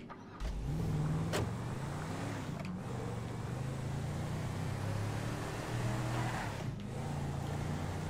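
A truck in GTA V Online drives along, a steady engine drone with shifting pitch running throughout, fairly close and moderately loud, with a few brief clicks and no talking.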